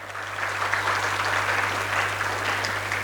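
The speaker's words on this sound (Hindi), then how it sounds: "थोड़ी और ताली हो जाए तो ज्यादा बेहतर रहेगा." Audience at a national HR conclave claps in sustained, dense applause throughout, fairly loud and steady over a low hum, with no distinct voices.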